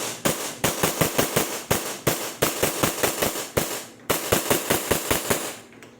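A Combat Master Alpha gas blowback airsoft pistol fires a series of sharp, loud, close cracks in quick irregular bursts, with a brief pause midway before more shots.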